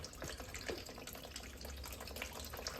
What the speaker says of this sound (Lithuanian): Dabar iš bakelio įsileidžiam vandenį.